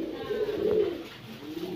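Pet pigeons for sale, racer, Budapest, Lahori and Laldum breeds, coo softly nearby in a low, rolling call that swells and fades over a quiet background.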